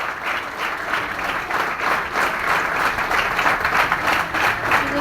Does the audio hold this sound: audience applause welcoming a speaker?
yes